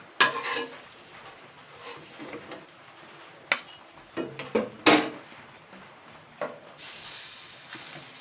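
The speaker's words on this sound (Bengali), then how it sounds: "খুবই সামান্য তেলে ভাজছি, দেখতেই পাচ্ছেন" Fig fritters fry in a little oil with a low sizzle, broken by sharp clinks and scrapes of a utensil against the pan, loudest in a few bursts, with no talking.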